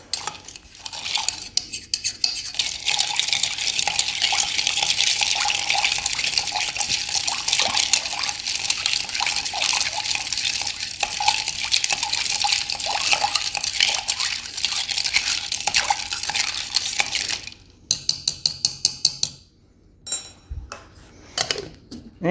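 Bar spoon stirring a pumpkin spice old fashioned with fall spice bitters in a mixing glass, a long run of rapid clinking and swirling liquid with ice, then a few separate taps and quieter clinks near the end.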